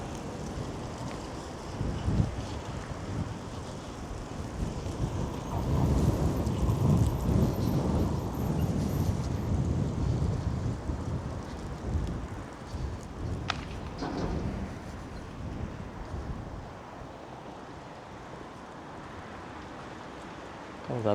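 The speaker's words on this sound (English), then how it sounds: "Starting to get really windy again." Steady wind blowing across a large open area in a Chinese border city, a constant broad rush with stronger gusts in the first half that ease off later, with faint scattered thumps and noise from the outdoor surroundings.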